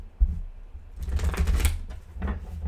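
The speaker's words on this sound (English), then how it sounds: "let me give it a quick shuffle like this." Quick riffling and slapping of a thick tarot card deck, a short burst then a second softer riffle, close up with a low background hum.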